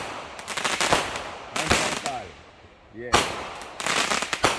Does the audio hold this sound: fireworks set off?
yes